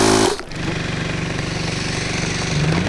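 A hand air pump inflates a glass bottle, a loud steady mechanical pumping drone with a rapid repeating rhythm that runs throughout after a brief initial burst.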